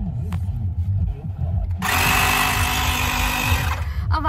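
A vacuum-type electric air pump starts up inside a car after some background chatter, then runs as a loud steady whine and hum for about two seconds before cutting off.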